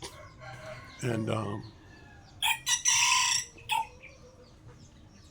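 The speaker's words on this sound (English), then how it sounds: "man, this chicken getting on my last nerves." A rooster in the Philippines crows twice loudly and close by, a long harsh crow followed by shorter bursts, after a brief spoken word from a man.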